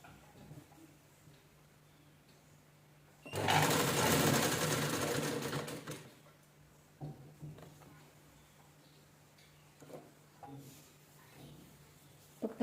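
A domestic sewing machine stitches a velvet blouse in a steady burst of rapid mechanical whirring lasting a few seconds, followed by quiet handling clicks and brief faint sounds.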